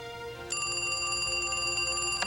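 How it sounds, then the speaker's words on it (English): A telephone rings with a bright, sustained electronic bell tone that starts abruptly and holds steadily, fairly close and alone. "I was already asleep and the phone rang"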